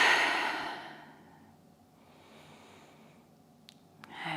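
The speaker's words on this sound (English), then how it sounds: "And exhale through the mouth." A long breath exhaled through the mouth during a vigorous vinyasa yoga flow, loud and close at first, then trailing off into quiet, followed by a faint inhale near the end.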